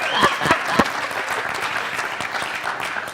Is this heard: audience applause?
yes